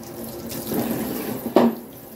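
Tap water runs into a sink while a child washes hands after school, a steady close splashing stream with a brief louder gush near the end and no talk.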